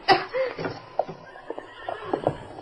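A horse whinnies loudly at the start, then snorts and stamps with scattered hoof clops nearby.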